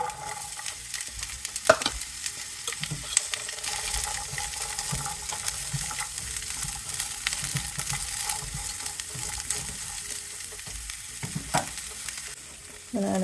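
Garlic and green beans saute in a pan with a steady, close sizzle and crackle. Occasional stirring clinks and scrapes break through the frying, and no one speaks.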